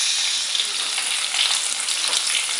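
Shrimp hit a hot pan with a little oil and sizzle loudly and steadily, a dense crackling hiss with no voices over it.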